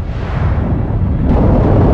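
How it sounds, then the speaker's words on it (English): A cannon shell explosion in a Warhammer fantasy audio drama: a loud, sustained roaring blast with heavy low rumble filling the whole stretch, with no voices over it. "You don't even hear the warning shouted by someone, somewhere, of cannons incoming."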